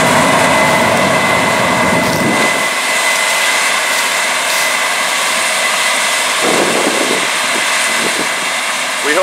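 A Case IH 9240 combine with a 16-row corn head harvests corn, giving a loud, continuous roar of engine and machinery that stays steady throughout, with heavy rumble and whine close by.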